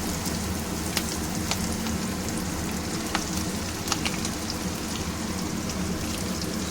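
Chopped ginger and two or three slivered green chillies fry in hot oil for a Bombay duck curry, lote macher jhal. A dense, steady crackling sizzle runs throughout, with occasional sharper pops.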